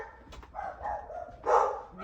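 Mila the dog barks sharply at the mailman, a few quick yips and woofs close by, with a voice talking over and between the barks indoors.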